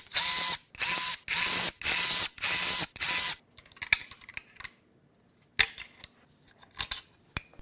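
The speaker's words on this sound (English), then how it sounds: "Now we're going to remove these front timing covers." Ratchet wrench cranking in six loud, even bursts while removing the front timing covers of a BMW S63 twin-turbo V8 during a teardown, followed by sparse metallic clicks and clinks of parts being handled.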